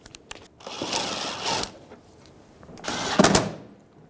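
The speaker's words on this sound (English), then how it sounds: "Snug down all the bolts." Two bursts of whirring, ratcheting tool noise from snugging down T27 bolts on a 2000-2007 Ford Focus front bumper cover, the second burst louder and sharper, with quiet gaps and no talking.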